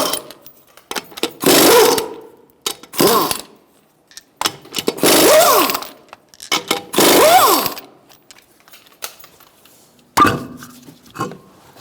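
Removing the front wheel lug nuts on a 2012-2017 Hyundai Accent 1.6L with a 21mm socket on a power tool, heard as several loud buzzing bursts of one to two seconds each, separated by brief pauses.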